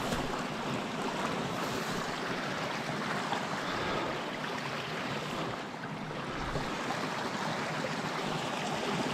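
Creek water rushing steadily on a trout fishing trip, a dense continuous wash of flow that stays close and loud throughout with no voices.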